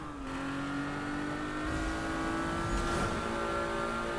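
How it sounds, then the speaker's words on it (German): A car driven in Need for Speed, a steady loud engine drone with shifting pitch as it accelerates, continuous and alone. "ich lenk noch und die Karre fährt trotzdem irgendwie stur"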